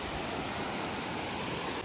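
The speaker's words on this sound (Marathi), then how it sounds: "बघू शकता अजून लाटा येतात" Sea waves washing on a Konkan shore during fishing with nets, a steady broadband roar of surf, continuous and moderately distant with no distinct breaks.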